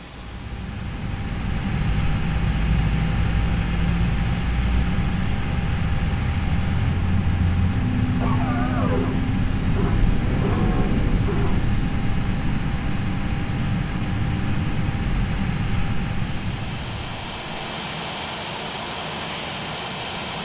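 Engine number one of an Airbus A320 spooling up in the FSX flight simulator, a steady loud turbine roar with a rising whine that drops away near the end.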